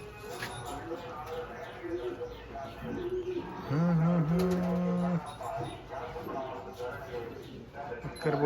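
Pigeons in a coop coo in low, rolling bursts, close by, while a person talks intermittently in the background.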